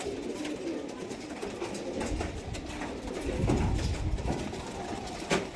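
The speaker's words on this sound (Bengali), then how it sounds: "বড় পায়রা দাদার এটা" Pigeons coo softly and repeatedly in a loft, with steady low murmuring and rustling throughout and a brief sharper sound near the end.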